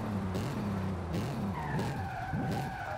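A Mitsubishi Montero 4x4 in Forza Horizon 5 brakes hard from high speed, tires skidding and squealing over a loud droning engine note that shifts pitch, close and continuous with no talking.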